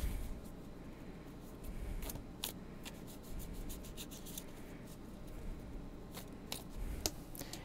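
Playing cards being shuffled by hand, a series of quick crisp riffling bursts repeating through a quiet room, close and fairly soft, with no talking.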